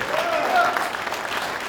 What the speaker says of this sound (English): Coach another round of applause